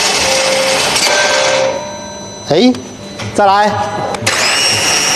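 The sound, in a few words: BMW starter motor cranking engine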